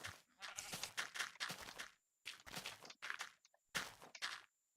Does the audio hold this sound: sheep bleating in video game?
yes